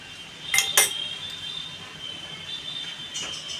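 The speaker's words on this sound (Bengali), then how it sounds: "আমি মশলাটা গুলে নেব বাটিতে" A spoon clinks against a bowl while spice powders (cumin, coriander, turmeric, chili) are stirred into water, two sharp metallic taps near the start and a fainter clink later, close by, with no talk.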